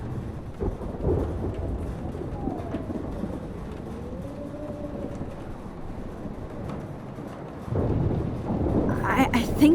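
A thunderstorm in the video game Life is Strange Remastered rolls as low, continuous thunder, holding a steady rumble before swelling louder toward the end.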